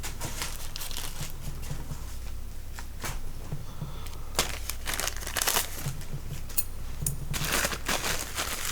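Plastic packaging around a pack of fifty bass fish stickers crinkling and rustling as it is handled up close, a continuous scratchy crackle with sharper snaps scattered throughout.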